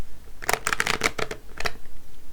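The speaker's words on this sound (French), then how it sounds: "On va prendre des petites cartes de l'oracle des miroirs." A deck of oracle cards shuffled by hand, several quick riffling bursts close up, followed by softer taps, no talking.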